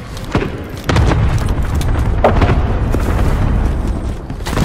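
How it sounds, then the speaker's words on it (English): Airstrike in Call of Duty: Modern Warfare, with a cluster strike landing as a deep, rumbling boom and a string of heavy explosions that roll on loudly for several seconds. "Allied cluster strike arriving."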